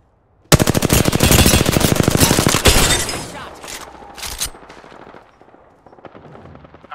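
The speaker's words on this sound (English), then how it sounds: "I shot at an enemy shield." Sustained automatic gunfire from a first-person shooter match in Apex Legends, a dense rapid burst lasting a couple of seconds before dropping to scattered shots and clatter, loud and close.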